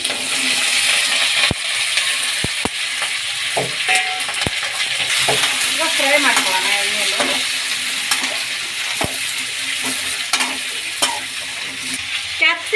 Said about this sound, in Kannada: ಈಗ ಎಣ್ಣೆ ಕಾಯ್ದಿದೆ ಸಾಸಿವೆ ಜೀರಿಗೆ ಹಾಕ್ಕೊಳ್ಳೋಣ ಹಸಿಮೆಣಸಿನ್ಕಾಯಿ ಕ್ಯಾಪ್ಸಿಕಮ್